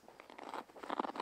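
A short ripping crackle as hook and loop padding is pulled free from the bottom of an Alpha One Niner Evade 1.5 backpack, close and fairly quiet, with no talking.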